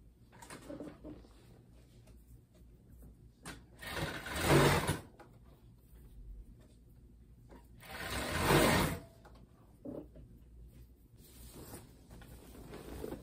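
A sewing machine stitches leggings in two separate bursts of a few seconds each. The whirring needle runs fairly close in a quiet room, with faint handling noises in between.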